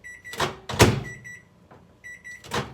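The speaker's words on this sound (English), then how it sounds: "my microwave does crazy stuff. Look, it's beeping for no reason." A home microwave oven beeps on its own in a kitchen, a few bright, steady electronic tones repeating in short bursts between louder clattering knocks and handling noises nearby.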